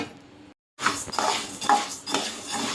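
Fried rice is scooped from a pan into a mixing bowl, with a sharp clatter of a metal spoon against cookware, a brief silence, then repeated scraping and clanking close by.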